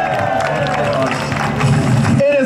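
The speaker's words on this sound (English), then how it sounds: "A big round of applause for Brian Benjamin" An audience applauds at the St Pats For All Parade 2022 speeches in New York, greeting Lieutenant Governor Brian Benjamin with a dense, steady wash of clapping and crowd noise mixed with voices.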